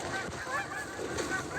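Goose honking during a waterfowl hunt in western Nebraska, a steady stream of nasal honks, likely from a goose call, over continuous outdoor noise.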